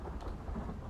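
Thunder rolls through a storm in the survival game Icarus, a dense low rumble blended with steady rain, heard alone with no talk.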